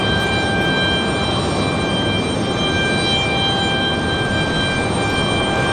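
American Airlines jet departing at Raleigh-Durham International, a steady broadband engine roar that stays loud and constant throughout, with a high whine layered on top and no voices.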